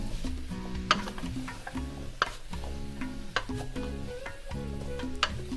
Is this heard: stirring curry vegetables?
yes